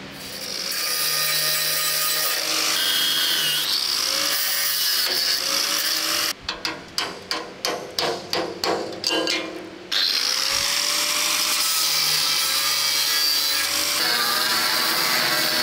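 Power tool cutting bolt heads off a steel 37mm ammunition rack from a WWII Grant tank in a workshop: loud sustained grinding and cutting, broken by a run of rapid pulsing bursts midway, then steady cutting again, with no talk.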